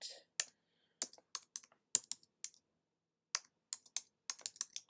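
Bursts of typing on a computer keyboard while filling in an online consultation form, with quick clustered keystrokes separated by short pauses, close and fairly quiet, no talking.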